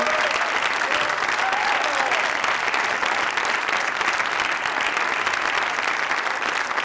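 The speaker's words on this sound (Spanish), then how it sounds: "pedir un aplauso importante y" Steady, loud applause from a large crowd fills the whole stretch without a break, dense clapping at an even level.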